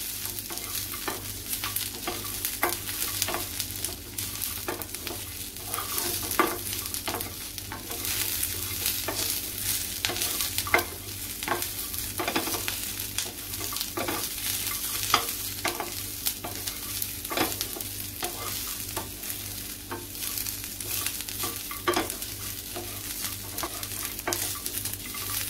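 Fresh coconut pieces and onion fry in a pan until browned, a steady low crackling sizzle with frequent light stirring scrapes running throughout, close and fairly quiet.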